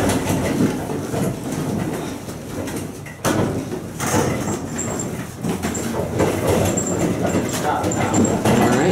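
A historic 1903 Sidney non-electric freight elevator rattles and clanks steadily through its ride, with a continuous mechanical rumble and a sharp knock partway through, as voices speak softly over it.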